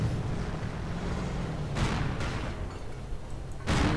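Strafing run in a war strategy video game: dense, continuous battle noise with rapid gunfire rattle, punctuated by a few sharp broadband bursts of fire and impact, loud and sustained throughout.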